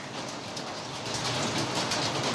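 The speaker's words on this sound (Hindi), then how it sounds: "तो ये देखो जी, बाहर लग पड़ी है बारिश।" Rain falls outside on an evening in barley-harvest season, a dense, steady patter of drops at moderate loudness with no voices.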